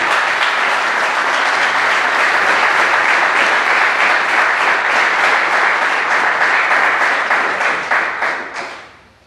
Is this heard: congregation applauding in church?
yes